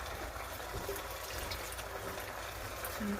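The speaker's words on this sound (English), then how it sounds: "We're going to put the rest of the pasta water in here." Pasta cooking water pours steadily into a pan on a stovetop for a feta and cherry tomato rigatoni, giving a continuous soft splashing trickle with no talk over it.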